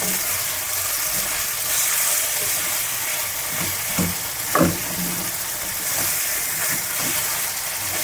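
Marinated chicken with sugar sizzles in a hot pan over high flame, a steady close hiss of frying broken by a couple of brief clinks from stirring.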